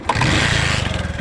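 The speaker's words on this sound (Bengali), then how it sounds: "দেখেন ঠোকায় ঠোকায় স্টার্ট" An old, inexpensive used car with an untouched original engine starts at the first try and settles into a brief, rough, rhythmic idle, loud and close.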